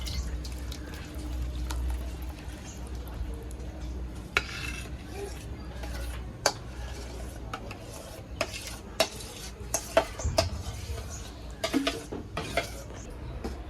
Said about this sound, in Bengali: আমের পেস্ট গুলো কড়াইয়ে দিয়ে দিব